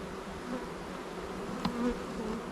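Honey bees buzz around an open beehive in a marsh apiary, a steady low drone close by with a brief sharper buzz as one flies near, no talking.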